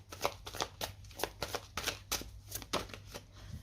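Oracle cards from the Gaia deck are shuffled by hand in a quick run of about a dozen crisp riffling bursts, close and alone.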